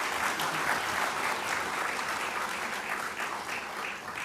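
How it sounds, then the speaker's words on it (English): Sustained, dense audience applause fills a hall after a Dance in Africa performance at an opening ceremony, steady and loud throughout with no voices rising above the clapping. "Ladies and gentlemen, another round of applause for Dance in Africa."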